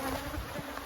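Honeybees hum steadily during a hive inspection in a bee yard, a close, continuous buzz with a few soft knocks underneath.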